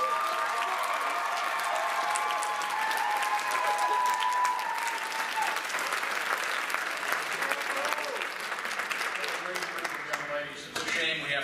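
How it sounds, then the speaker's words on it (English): An audience applauds steadily for a finalist at the 2016 Distinguished Young Women of Indiana pageant, a dense, sustained round of clapping that fills the hall and tapers off near the end. "A nice round of applause."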